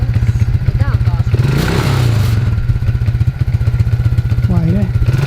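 An ATV pushing a homemade snow plow holds a loud, pulsing engine drone close by, rising briefly in a rev partway through, while people talk over it.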